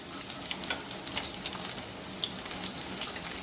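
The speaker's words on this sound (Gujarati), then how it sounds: "વઘારને આપણે થોડું ચલાવી લઈશું." Dry red chillies, chopped garlic, ginger and green chillies sizzling in hot oil for a tempering, a soft continuous crackle with small bright pops while being stirred, no voices.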